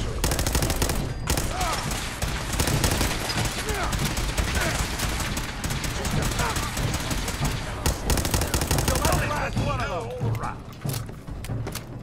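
Sustained, dense gunfire from a Fallout 4 firefight with Institute synths, rapid overlapping shots and bursts filling the whole stretch at high level, with voices shouting over the battle.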